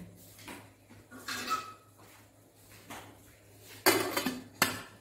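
A metal idli pan set on a kitchen stove and covered with its lid: faint scraping and shuffling, then two sharp clanks of metal on metal near the end, close by with no talking.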